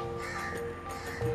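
Crows caw while flying over a Kota Damansara street in Kuala Lumpur, a few short harsh calls at mid distance over background traffic hum.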